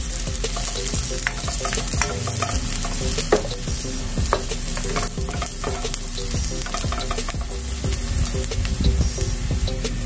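Garlic frying in a pan for ginataang gulay while being stirred, a loud, close, continuous sizzle broken by repeated scraping strokes of the spoon, with no talk.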